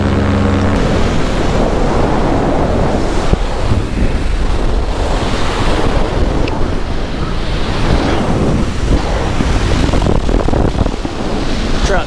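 Strong wind rushes past during a cross-country paraglider flight, a loud continuous roar buffeting the microphone throughout with no voices.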